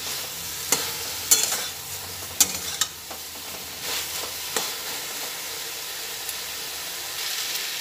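Eggplant with kasundi mustard sauce and a little sugar fries in a pan, with a low hiss under sharp, scattered scrapes and clinks from a spatula stirring it close by.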